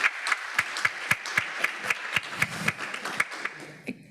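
An audience at a mayors' conference on drug-prevention advocacy claps in a steady, evenly spaced rhythm, each clap crisp and distinct over a light hall murmur, with the beat easing off near the end.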